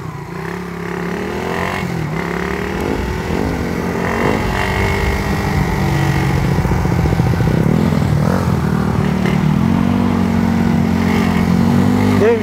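A Yamaha Mio scooter fitted with a 4-valve Sibak Raider 150 engine and a 14/36 sprocket runs loud and close, its buzzing engine note holding steady and rising and falling with throttle throughout.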